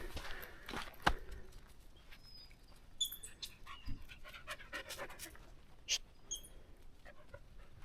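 A dog of an intelligent breed pants rapidly and steadily at close range on a hike near Weaver Lake, with a few footsteps on the trail and faint bird chirps behind.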